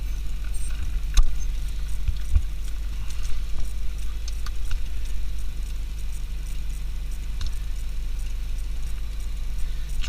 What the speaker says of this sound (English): It's revving a bit high.